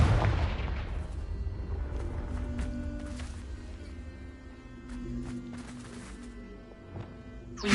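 Confringo spell blasts in Hogwarts Legacy go off amid combat, a sharp opening burst followed by scattered booms and impacts over a low rumbling game soundscape with musical tones.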